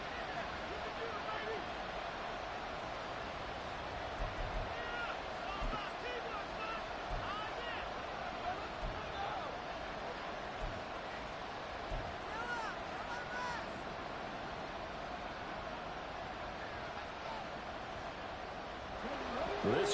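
Stadium crowd in a Madden football video game, a steady roar that holds for the whole stretch at a constant level, with a slight swell near the end.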